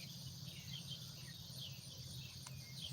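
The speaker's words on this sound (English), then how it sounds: "It's enough for me just to listen to the bird song and the song of the cicadas." Cicadas sing at sunset in a continuous high, shimmering drone, with a faint low background rumble beneath and no voices.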